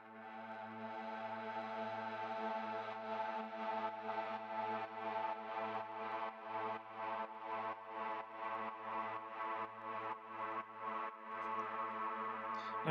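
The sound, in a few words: synth pad sidechained in Ableton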